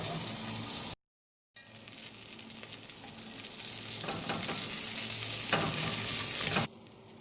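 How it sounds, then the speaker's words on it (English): French shallots fry flat side down in oil and butter, a steady close sizzle with crackling bursts that builds louder over several seconds after a brief silent gap near the start. "these French shallots that I have right here, they're going to go flat side down into the oil and butter"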